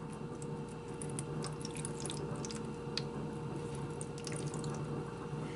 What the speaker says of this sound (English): We're going to add just enough water to cover the bottom of the pan